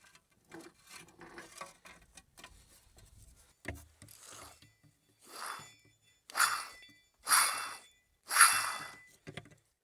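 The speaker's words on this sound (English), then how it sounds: "And again, cleaning up the mating surface. I'm using a file." Metal file scraping rust off a wheel bearing mating surface on a GMC Yukon, starting with light scratchy rubbing, then four loud, evenly spaced rasping strokes close up.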